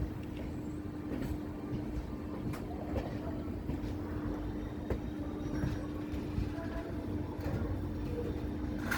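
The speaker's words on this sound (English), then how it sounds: "we are arriving Londa Junction railway station" Interior of passenger train 11097 Pune–Ernakulam rolling into Londa Junction, a steady low rumble of the coach with a constant hum and occasional faint clanks and rattles.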